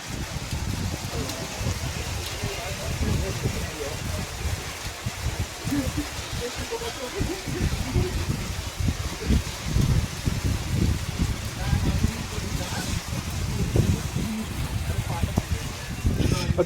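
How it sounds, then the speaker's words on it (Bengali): Heavy rain with cold wind on a mountain trek from Sabargram to Phalut: a dense, steady roar of rain and wind, close and unbroken throughout, with people talking under it. "হেভি জোরে যেমন বৃষ্টি পড়ছে,"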